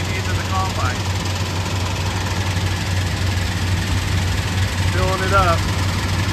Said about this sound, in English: the belts feed everything in, the auger turns, and that's what sucks the grain into the combine.